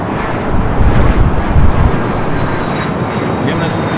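An airplane takes off at LAX in Los Angeles: a loud, close, broadband engine roar that swells and rumbles, mixed with wind buffeting the microphone.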